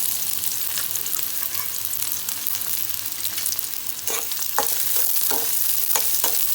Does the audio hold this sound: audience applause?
no